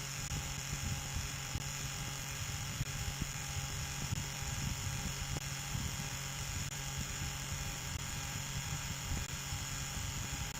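Motor with magnets spinning unloaded at about 2750 RPM, a steady whirring hum with a constant tonal whine, continuous and even in level.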